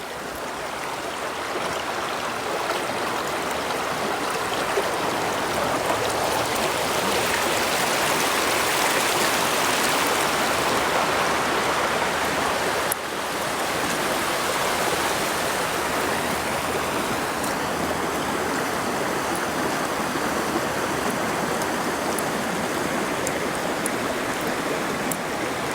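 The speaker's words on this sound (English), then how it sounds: "we're going to head back down to the river. The river is just so beautiful." A river flowing steadily in a natural outdoor setting, a dense, continuous rushing wash of water, loud and close, with no voices over it.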